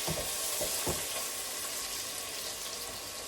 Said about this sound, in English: I'm going to open it and stir it again